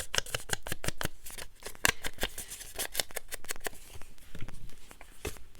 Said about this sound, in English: I'm just going to put some different pieces of paper back there.